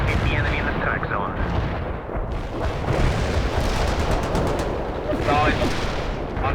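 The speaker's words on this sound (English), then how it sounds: "We can deploy and lay down a heavy barrage. Artillery strike on the way." Heavy artillery barrage in the real-time strategy game World in Conflict, a Soviet assault: continuous loud rumbling explosions and rapid gunfire layered densely throughout, with radio-style voice chatter breaking through at moments.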